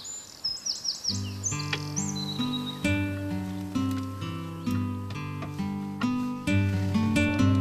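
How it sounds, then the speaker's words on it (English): Birds sing beside a calm Norwegian fjord on a sunny morning, their high chirps and trills fairly close. A sustained tonal drone runs underneath the whole time. "and the birds are singing."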